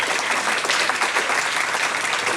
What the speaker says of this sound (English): we may well need to stop the clapping soon